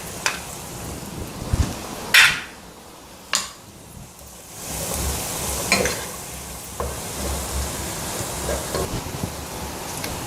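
Pasta for a vegetable snack is stirred in butter in a pan, sizzling softly throughout while a spoon scrapes and clinks against the metal in irregular bursts, close by, with no talking.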